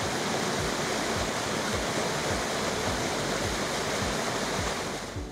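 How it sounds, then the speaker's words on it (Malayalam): Water rushes over rocks at Irappan Para waterfall in Alappuzha, a loud, constant roaring wash that runs unbroken and close throughout, with no voices heard. "പാറകളിലേക്ക് വെള്ളം ഇരച്ചെത്തുന്ന ശബ്ദം കാരണമാണ് ഇരപ്പൻ പാറ എന്ന പേര് വന്നതത്രേ"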